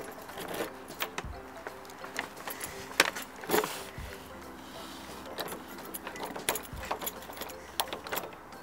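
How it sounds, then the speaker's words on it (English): A bunch of house keys jingles and clinks in bursts as someone hunts for the right one at a home's front door, with a few sharper metallic knocks and low thumps from handling nearby. "Then when I located the proper key, I was able to get in"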